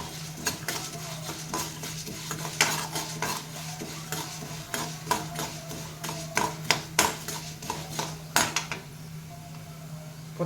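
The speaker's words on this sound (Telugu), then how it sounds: "పుచ్చగింజలు తొందరగా వేగుతాయి, చిట్టపిట్టలాడతాయి." Melon seeds and sesame seeds roasting dry in a pan, with steady stirring scrapes and sharp crackling pops spread through, over a low constant hum, close and moderately loud, no talk.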